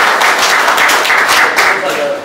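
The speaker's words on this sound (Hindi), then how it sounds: "अपने लिए जोरदार तालियां बजा दीजिए" Audience at a Hindi poetry gathering and award ceremony bursts into dense, loud clapping that continues steadily throughout, with a voice faintly present underneath.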